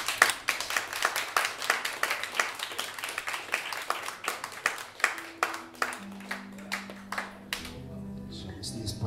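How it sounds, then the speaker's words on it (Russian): Audience applause at a jazz evening and birthday celebration honouring the book's designer, a burst of clapping that thins into scattered claps before a few sustained musical notes enter near the end. "Наталья, аплодисменты."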